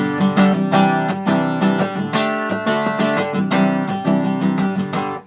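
Acoustic guitar chords strummed with a busker-style technique, loud, bright and ringing with sustained resonance between strokes, played close and continuously without talk.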